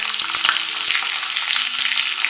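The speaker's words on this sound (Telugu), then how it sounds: "ఈ విధంగా తాలింపు వేగిన తర్వాత స్టవ్ ఆఫ్ చేసుకొని దీన్ని ఒక పక్కకు పెట్టుకోవాలి" Mustard-oil style tempering of dried chillies, curry leaves, sesame seeds and asafoetida frying in a pan for temple-style pulihora, a steady close crackling sizzle with sharp pops throughout.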